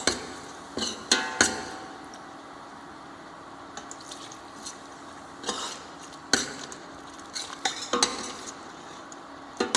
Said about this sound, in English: As you add, mix it nicely.